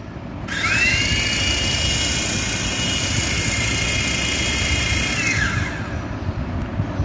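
An RFD 018 remote control toy helicopter is switched on and runs with a steady high rotor whine, close and constant for several seconds, then spins down.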